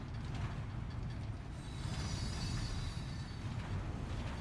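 A monorail in Death Stranding 2 rolls along with a steady low mechanical rumble, rattling and faint wheel squeals layered above it, a continuous moderate drone with no voices.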